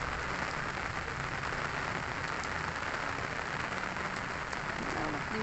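Steady, dense rain pattering on a surface, a constant hiss of drops with no breaks, fairly close and even in loudness throughout.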